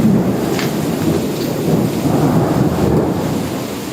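Heavy rain pours steadily outside a terrace at the Bankya residence, a loud, dense wash of falling water with low rumbling underneath, continuous throughout and with no voices.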